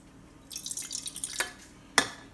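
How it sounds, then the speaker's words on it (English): Water is poured into an empty aluminum soda can: a faint, brief trickle with light splashing for about a second, then a sharp metallic tap or drip close by. "I'm going to pour just a little bit of water into this empty soda can."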